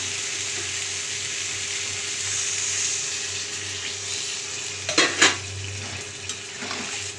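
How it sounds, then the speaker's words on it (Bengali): Water poured into a pan of frying potatoes and spice masala for egg curry gives a steady hiss and simmer, with a few brief metallic clinks of a spoon against the pan. "এবার এর মধ্যে আমি পরিমাণ মতন জল দিয়ে দেবো।"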